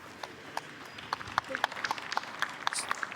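Scattered clapping from a gallery of spectators watching a women's pro disc golf tee shot, sharp uneven claps building in density over a few seconds, moderately distant and outdoors.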